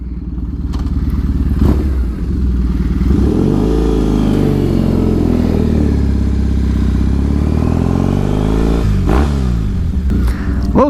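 A custom Triumph T100 cafe racer motorcycle pulls away and rides on, its loud close engine note rising and falling through the gears with a few thumps and clatters along the way.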